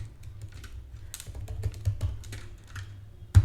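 Quick, irregular clicks of computer keyboard typing in the vim editor, close and crisp, ending with a heavier keystroke.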